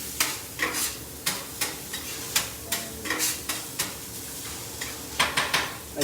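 Smash burgers and onions frying on a hot surface with chips cooking, a steady sizzle under sharp, rhythmic scrapes and taps of a spatula repeating every half second or so, close by.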